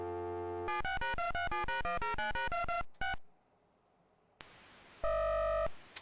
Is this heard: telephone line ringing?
yes